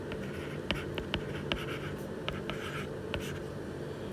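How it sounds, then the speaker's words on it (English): A white pencil scratches across paper in a run of short, distinct strokes and taps, close and clear, with no talking over it. "I'll take my white pencil to do the computation"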